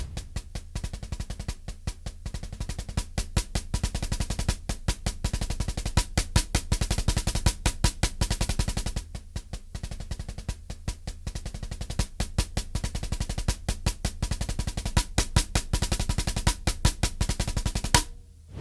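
Rapid snare drum doubles played as a 32nd-note variation of a weak-hand speed exercise, a dense, steady stream of crisp strokes with brief pauses between phrases, loud and close, no talking.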